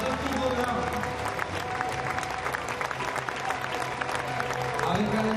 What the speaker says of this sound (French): Et on va applaudir Gianni pour ce tour d'honneur.